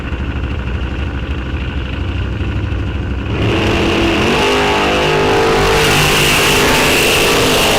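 Ford-powered dragster at a bracket drag race launching from the line, a loud steady engine roar that surges into a broadband blast around the midpoint and stays full and close to the end.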